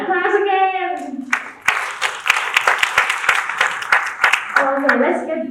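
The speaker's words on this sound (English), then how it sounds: "please give him a warm welcome and applause again." A crowd breaks into applause, dense clapping lasting several seconds between stretches of someone speaking before and after.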